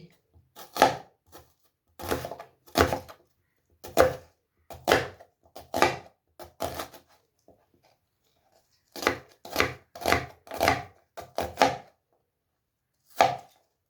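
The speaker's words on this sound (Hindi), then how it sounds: "तो इसको इस तरह कटिंग कर लेंगे।" A knife chops an onion on a board in quick rhythmic runs of crisp, close thuds, with a short pause midway before another fast burst and one final cut.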